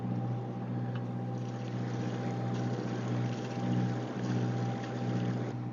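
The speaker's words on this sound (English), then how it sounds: "here's the fishing boat we've been following" A fishing boat motors along on the water in Urquharts Bay with a steady, low engine drone that holds even and fairly quiet throughout, mixed with light wind noise and no voices.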